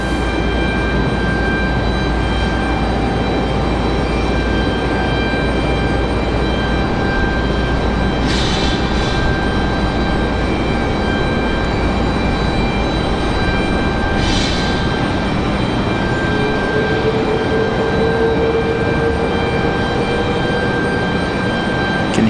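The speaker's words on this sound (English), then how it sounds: "Hear that 777 on the move." An American Airlines Boeing 777 jet taxis for departure at Raleigh-Durham International Airport, a steady loud engine roar and whine with a constant tone, continuous throughout and alone.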